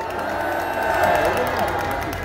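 A crowd applauds a young speaker being welcomed at a political rally on the eve of March 1st, a dense, even wash of clapping and cheering that swells slightly midway.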